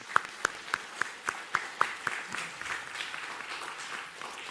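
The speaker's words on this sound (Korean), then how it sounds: "박수로 격려하겠습니다." Church congregation applauding together in a sanctuary, starting with a few distinct sharp claps that quickly blend into a steady, moderately distant wash of clapping without speech.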